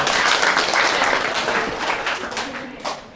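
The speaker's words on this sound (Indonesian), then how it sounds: "Tepuk tangan untuk beliau." Applause from a seminar audience greeting a coach at an HNI event in Bekasi, a dense, loud wash of clapping that holds steady for several seconds and then begins to fade.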